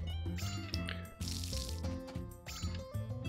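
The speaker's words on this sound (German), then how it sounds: "Mal sehen, wie weit ich hier komme mit Gießen." Watering crops with a watering can in Story of Seasons: A Wonderful Life, soft splashy water bursts set beneath a bright, continuous game music melody, fairly quiet and with no talking.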